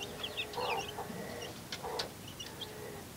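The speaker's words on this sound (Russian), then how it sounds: "вот этот петух, который сейчас кричит таким вот голосом, как свинья, как кабан кричит, это на улице он сейчас" Rooster outdoors giving a hoarse, squealing crow that sounds like a pig or boar, heard at a moderate distance over steady background noise with a few other bird calls.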